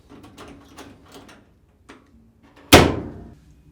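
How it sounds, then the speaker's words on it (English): A few soft clicks and light rattles, then a quiet pause before a Whirlpool or Maytag appliance door shuts with a sharp, loud thud that rings briefly, after a door strike and latch replacement. "check that the door opens and closes properly"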